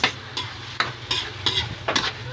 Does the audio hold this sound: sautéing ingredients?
yes